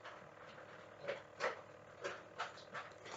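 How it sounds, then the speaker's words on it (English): Dogs eat somewhere in the background, giving a faint, steady run of soft chomping and lapping bursts, about six of them spaced irregularly over a low room hum. "my dogs are eating in the background. You guys can probably hear"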